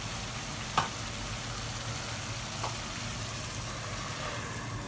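Pork ribs and belly adobo frying in a pan as the fat renders into oil, a steady even sizzle throughout with a couple of faint clinks, no talk.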